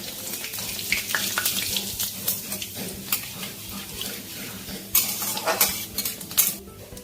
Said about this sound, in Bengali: তেল গরম হয়ে গেছে, জিরে আর শুকনো লঙ্কা ফোড়নে দিয়ে দিচ্ছি।